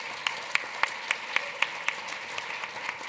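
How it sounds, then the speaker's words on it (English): Light audience applause for a conference panel, soft and fairly distant, with regular claps punching through a thin wash of clapping, like a modest crowd keeping a steady beat. "Please give this panel a round of applause"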